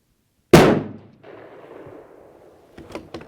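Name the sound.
rifle shot from a rifle with Apex Optics Rival 4-32x56 scope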